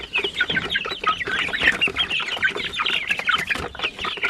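A native chicken rooster with other fowl nearby, clucking and squawking continuously and fairly loud at close range, with no talk over it.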